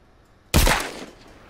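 A single sharp, loud gunshot blast in The Walking Dead: Saints and Sinners game erupts after a quiet moment, then rolls off in a decaying echoing tail.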